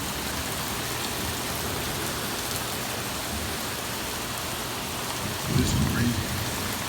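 Heavy rain pours steadily through a violent thunderstorm, a dense, even hiss. A deep roll of thunder swells near the end, and a voice speaks briefly over the downpour.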